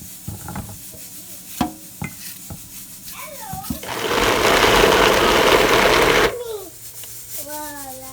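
A kitchen blender whirs loudly for about two and a half seconds, chopping cut-up food, between clinks and knocks, with a voice chattering before and after.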